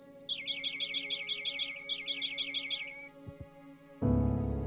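A video-game bird in The White Door chirps loudly in quick repeated tweets for about three seconds, then falls silent and a low ambient hum takes over.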